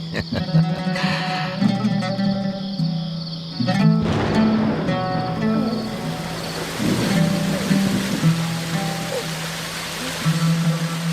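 Steady rain hisses and patters across the whole stretch, with a sustained tone and occasional louder bursts mixed in.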